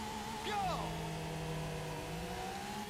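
Porsche Boxster launching from the start line in the racing game Need for Speed Porsche Unleashed, the engine note rising in a quick rev, then settling into a steady drone under faint background noise.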